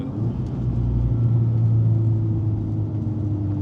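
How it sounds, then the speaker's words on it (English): A deep, steady exhaust rumble from a remapped VW Scirocco R drones close by, low and throaty with a slight wavering hum throughout. "That's when you could hear the exhaust more."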